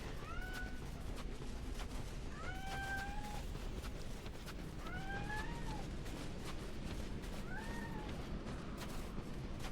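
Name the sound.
cat meowing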